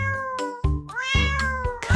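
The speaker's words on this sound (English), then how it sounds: "Cat." A domestic cat meows several times in quick succession, close and clear, each call a rising then falling tonal cry, with no other sounds around it.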